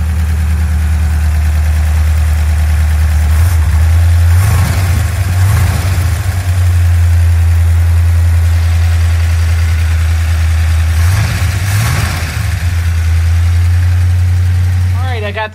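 A 1959 Chevrolet Impala engine idles with a deep, steady low rumble close by, holding a constant loud drone throughout with a few brief revs and mechanical rattles, while a person talks over it.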